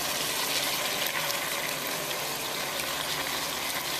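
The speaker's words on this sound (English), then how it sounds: "Now we're going to add our tomatoes. This is going to be 2/3 of a can of tomatoes." Canned tomatoes are poured from a can into a pot of Vietnamese beef stew, a steady wet gushing and sloshing that lasts the whole stretch, with no one speaking.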